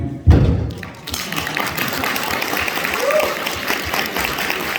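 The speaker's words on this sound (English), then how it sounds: "I'm going to applaud you." An audience at the Meat Loaf Flashback Weekend in Chicago, 2021, claps in a steady wash after a sharp thump opens the moment, sustained and moderately loud to the end.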